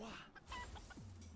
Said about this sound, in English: Did you summon a chicken?